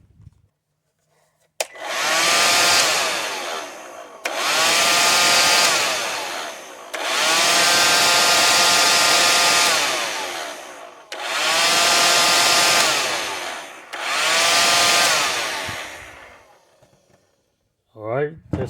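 A Black & Decker leaf blower with a previously stuck switch runs in five loud, close bursts of steady whooshing roar, each a few seconds long with brief gaps between, ending with a short clatter.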